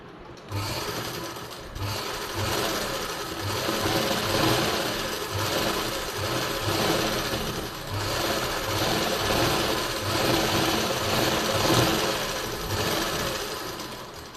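A sewing machine runs steadily while stitching a blouse lining, its rapid mechanical needle chatter close and continuous with brief pauses at the start, with no talking.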